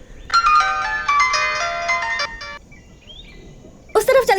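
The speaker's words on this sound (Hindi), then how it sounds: "फोन रिंग हो रहा है उनका।" An electronic phone ringtone plays a bright, looping melody for about two seconds, then stops; a voice speaks briefly near the end.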